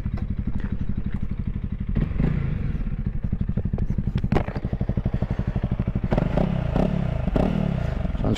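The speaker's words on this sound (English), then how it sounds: "Let's give her a little rev." A 2022 Honda CRF300L single-cylinder engine idles close by with a rapid, even thump, then gets a few short blips of throttle that rise and fall, with some mechanical clatter and no talking.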